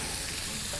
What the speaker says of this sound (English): So start off by just frying everything together like so.